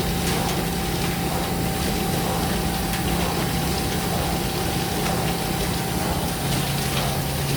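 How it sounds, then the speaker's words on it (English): Waste suction system on a 2003 Bobst SP Autoplaten 104 E die cutter with stripping carrying away paper scraps: a loud, continuous rushing roar with a steady hum, unbroken throughout and no talk. "Sorry for the noise, that's all the paper scraps going away."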